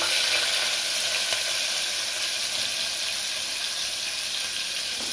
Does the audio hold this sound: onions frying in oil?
yes